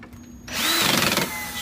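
Power drill clamped to a workbench and driving a homemade disc sander, a brief whirring spin-up to a steady motor whine that lasts about a second before easing off, close and fairly loud.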